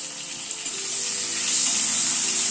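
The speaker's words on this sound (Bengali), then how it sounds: "নুন হলুদ দিয়ে এবার আলু স্কোয়াশটাকে একটু ভেজে নেব" Potato and squash pieces frying in a pan with salt and turmeric, a steady close sizzle with soft hiss that builds slightly louder toward the end, no talk.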